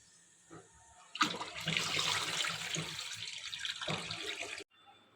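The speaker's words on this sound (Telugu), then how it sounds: "నీళ్ళు పోసిన తర్వాత రెండుసార్లు కడుక్కోవాలి" Water gushes and splashes close by for about three seconds as soaked chickpeas are rinsed in a bowl, then cuts off abruptly.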